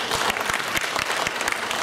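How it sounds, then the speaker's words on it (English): An audience at a business forum claps for the speakers, a dense, continuous round of applause from a crowd filling the room. "why don't we just give our speakers another round of applause."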